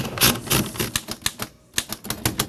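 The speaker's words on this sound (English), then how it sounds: "I'm typing." Keys clack on a typewriter at Cambridge Typewriter, a repair shop in Massachusetts, in a quick, uneven burst of sharp strikes close by, with one short pause midway.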